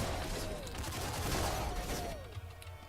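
Smart gun firing in Nuclear Throne, a rapid stream of small electronic gunshots layered over game music and effects, steady and then cutting off near the end.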